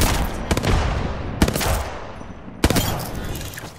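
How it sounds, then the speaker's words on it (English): Bursts of weapon fire in an Apex Legends match, three sharp loud onsets about a second apart, each followed by a dense, decaying wash of shots and noise. "Opening fire."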